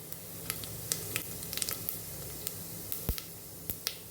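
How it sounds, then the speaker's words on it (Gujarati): Cumin seeds sizzle in hot oil with a constant hiss and scattered sharp little pops and crackles, heard close and fairly quiet, while cooking a cluster bean gravy curry. "તો અડધી ચમચી જેટલું આપણે જીરું ઉમેરશું"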